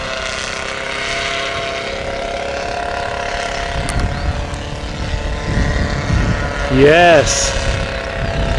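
A lawnmower-engine paramotor aircraft drones steadily in flight, its engine note rising slightly toward the end while people talk and cheer over it outdoors.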